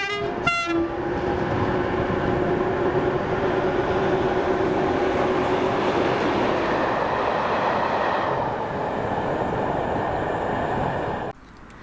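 A class 37 diesel locomotive drones steadily as it hauls a freight train with barrier coaches past, with a short horn blast at the start and the engine noise fading near the end.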